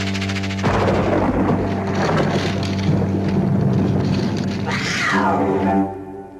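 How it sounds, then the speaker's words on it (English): A domestic cat gives a loud, close, drawn-out yowl lasting several seconds over a steady background hum, then a sharper rising cry before it fades out. "Just the cat."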